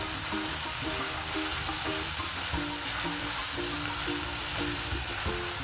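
Salted onion sautéing in a pan over a high flame, with a dense, continuous sizzle and crackle throughout and a faint, steady tonal hum in the background.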